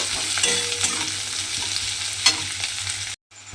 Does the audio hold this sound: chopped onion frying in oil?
yes